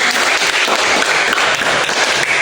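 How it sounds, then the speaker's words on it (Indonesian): A classroom of students applauding, a loud, dense and steady burst of clapping with no pauses. "Berikan aplaus dulu buat kalian semua."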